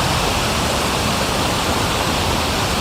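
A waterfall in an outdoor landscape rushes with a steady, loud, broadband roar that holds unchanged from start to end, close by and with no voices.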